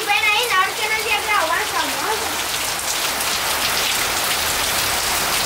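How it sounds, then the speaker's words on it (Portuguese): Steady rain falls hard on a nearby surface, a dense, continuous patter that goes on throughout. Someone talks over it at the start. "tá chovendo ainda"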